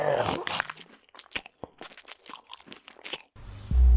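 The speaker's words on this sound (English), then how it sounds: "and the sound of crunching." A short burst of crisp crunching bites, repeated irregularly, ending with a heavy low thud.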